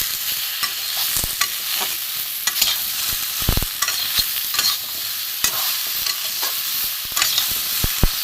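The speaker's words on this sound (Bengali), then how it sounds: "হলুদ দিয়ে ভালো করে এটা ভাজবো।" Vegetables for shukto frying in a pan with salt and turmeric while a spoon stirs them: a steady close sizzle with repeated scraping, knocking stirring strokes, and no talking.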